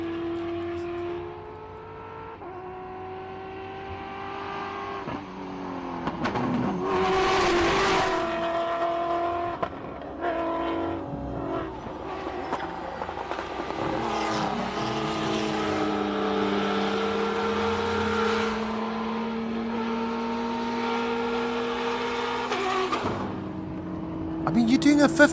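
T1 rally raid vehicles race up the Simola Hillclimb course, their engines droning and revving through shifting pitches as cars approach and pass, with occasional sharper bursts and a loud surge at the end.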